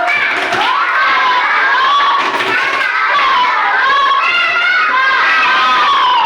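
Third-grade schoolchildren in an Indonesian classroom chant and clap together in a loud, continuous group 'tepuk salut' routine, with excited young voices shouting throughout.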